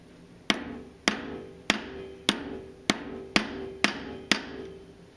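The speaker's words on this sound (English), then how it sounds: "Or hammer it down flat." Eight sharp hammer strikes flattening metal for a 75mm throttle body install on a 4.7 engine ring out at a steady, even pace, each a crisp clang with a short metallic decay.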